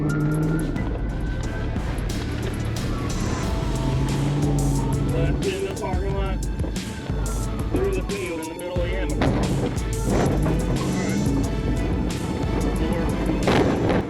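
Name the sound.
car in high-speed police pursuit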